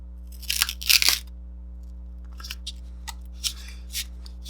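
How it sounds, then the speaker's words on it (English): Adhesive foam pad for a 2018 Aprilia Tuono Factory build has its sticky backing peeled off in a few quick crackling rips, followed by scattered light taps and rustles as it is pressed into place, all close over a steady hum. "So you just peel off the backer and stick it to the side that you need it on."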